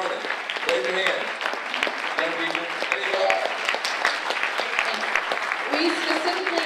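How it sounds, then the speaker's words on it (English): Audience applause at an evening celebration, a crowd clapping steadily and densely throughout, with voices and a speaker's talk mixed in underneath. "Give a round of applause"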